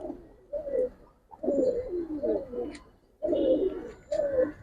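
Giribaz pigeons coo close by in repeated low, throaty phrases with short pauses between calls, while faint chirps sound in the background.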